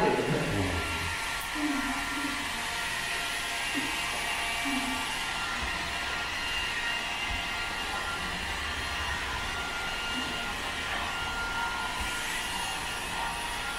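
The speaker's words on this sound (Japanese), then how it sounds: "ドライヤーダンスをお届けしたいと思います。" A hair dryer runs steadily throughout a dryer dance, a constant broadband whoosh and motor whine with faint thumps and movement noise underneath, fairly close and uninterrupted.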